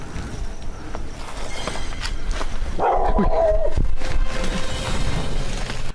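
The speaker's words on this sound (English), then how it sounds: "The team is startled back by a dog barking." A dog barks close by inside a derelict building, a short burst of sharp barks rising over a steady background rumble with footsteps and faint movement around it.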